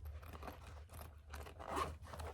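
A project bag's zipper is tugged open in several short, faint rasping pulls, with a stronger scrape near the end, close and quiet.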